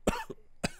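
Two sharp coughs from a person on a casual podcast, close to the microphone, with a short pause between them.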